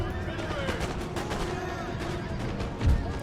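Musket volleys crackle in an Empire: Total War battle with Great Britain's line infantry, a steady stream of overlapping gunfire and distant battle noise that runs continuously under a speaking voice.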